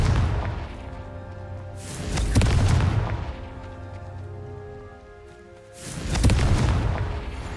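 A Confringo spell explodes twice in the video game Hogwarts Legacy, each a loud deep boom with a crackling burst that rumbles for about a second, separated by a quieter stretch of debris-like patter.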